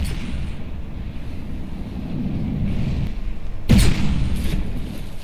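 A sharp, loud blast of a shell explosion in a naval video game bursts out partway through, standing out over a steady low rumble of ship engine and background noise.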